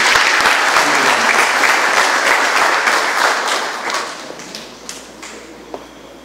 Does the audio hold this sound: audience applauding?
yes